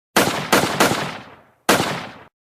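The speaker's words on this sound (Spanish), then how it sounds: "Saco una pistola y doy disparos al aire" Pistol shots fired into the air in a cartoon: three quick loud cracks, each with a short decaying echo, then a pause and one more shot.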